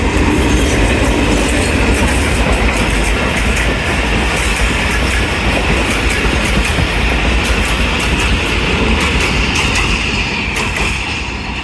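Mehran Express 149 Up passenger train rolling past in Pakistan, a loud, steady roar of wheels and carriages with rhythmic clickety-clack throughout, close by and sustained, no voices.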